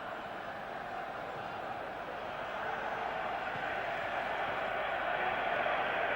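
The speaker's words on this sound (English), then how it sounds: "An enormous crowd of West Ham supporters followed the team over here." A huge stadium crowd of West Ham supporters at the 1976 Cup Winners' Cup Final against Anderlecht makes a steady, far-off roar that swells slightly toward the end.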